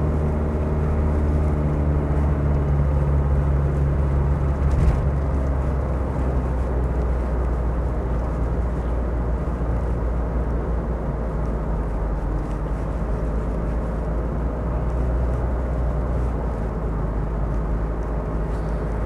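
A Land Rover Discovery 300Tdi automatic, a Japanese import, accelerates uphill in traffic, its diesel engine giving a steady, continuous low drone that holds unbroken from start to finish with no voices over it.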